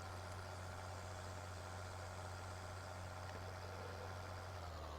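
Tractors at work in Farming Simulator 2013 give off a steady, low engine drone that idles evenly for the whole stretch, with a constant hum and no voices.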